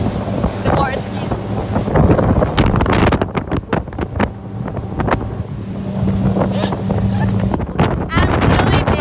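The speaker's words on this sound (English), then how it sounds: "Look at this wind." Wind buffets the microphone on a boat out on the water, a loud broadband rumble with gusty swells throughout, while people talk and laugh over it.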